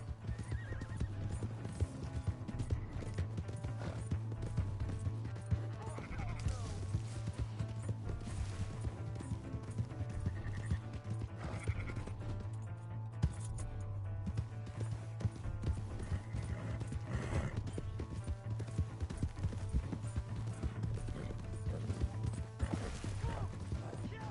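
Horse hooves clip-clopping steadily with occasional whinnies and neighs, from the video game Red Dead Redemption, a continuous galloping rhythm at moderate level with faint mechanical clicks in the background.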